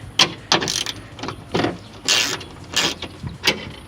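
A ratchet loosens a window regulator bolt inside the door of a 2004 Honda Civic LX. About eight sharp, close metallic clicking bursts come at an uneven pace, with no talking.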